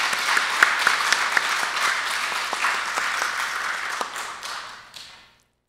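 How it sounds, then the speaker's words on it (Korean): A church congregation applauds at a Sunday worship service in a steady burst of many hands clapping, which fades out and stops near the end. "우리 다시 한번 박수로 축복하겠습니다."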